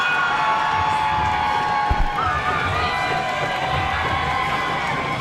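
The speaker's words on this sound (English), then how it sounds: "Listen to this crowd at Herman's Hideaway" Wrestling crowd at Herman's Hideaway cheering and shouting in a loud, continuous roar of mixed voices that fills the room, with a brief thump partway through.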